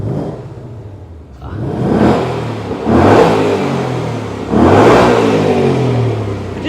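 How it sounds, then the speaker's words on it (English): A 2024 Ford Mustang Dark Horse fastback's 5.0 V8 exhaust revs loudly up close, three separate throttle blips swelling into deep, throaty roars with a rumbling idle between them. "this car has 4 different modes when it comes to the sound of the exhaust"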